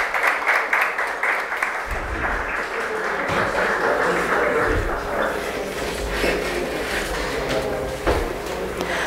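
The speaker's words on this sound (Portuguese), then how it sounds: "Aplausos à nossa homenageada." An audience at a municipal council special session in Criciúma applauds an honoree, a continuous crowd clapping that fills the room, with a low rumble and some muffled voices underneath.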